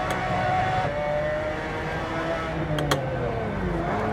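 Race car engine in a driving simulator game on a motion sim rig, a steady loud droning tone with pitch sliding down and back up as it accelerates and brakes, continuous with faint background noise.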